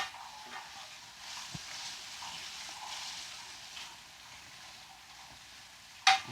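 Pieces of orange chicken fry in hot oil, a soft continuous sizzle with faint crackles and an occasional clink of a utensil, steady and moderately quiet.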